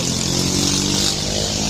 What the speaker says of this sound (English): Now someone going by on a moped